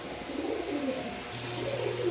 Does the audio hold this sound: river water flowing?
no